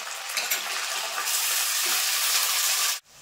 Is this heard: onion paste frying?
yes